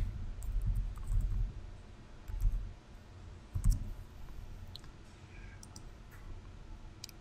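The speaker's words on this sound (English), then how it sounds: "I'm going to go ahead and type that new password in" A computer keyboard is used to type a password, with a handful of soft, scattered key clicks in quick little clusters over a quiet room background.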